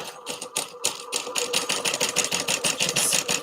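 A sewing machine stitches a passport wallet in quick, rhythmic mechanical clatter, starting in short bursts and settling into a fast, even run, close and moderately loud.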